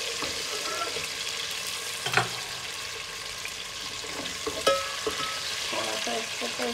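Garlic frying in a pan for macaroni rice gives a steady bright sizzle throughout, with a couple of sharper spits and stirring clicks popping out now and then.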